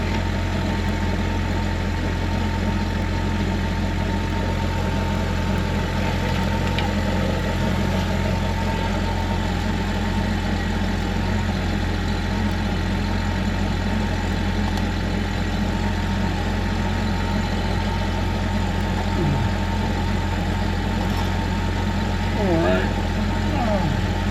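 A new car's engine idles in a steady, continuous low rumble, close and even throughout, with faint mid-range hum and occasional background noises on top.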